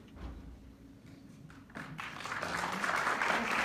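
Applause from the audience at a candidate forum swells up after a quiet murmur and a few taps, building to a fuller, denser round of clapping that fills the room by the end.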